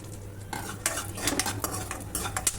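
A spoon stirs cashews, raisins, almonds and chia seeds frying in ghee in a metal pan, giving close scraping and clinking strokes over a faint sizzle, with no talking.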